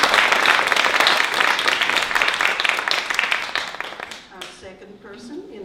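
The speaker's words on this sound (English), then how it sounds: "So I would like to give him applause." Audience at a literary festival event applauds in a dense burst that gradually tapers off, then a speaking voice takes over near the end.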